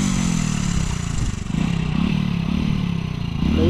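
An off-road motorcycle accelerates on a rough trail in Konkan, its engine droning steadily and loud with clattering and scraping from the rough ground throughout.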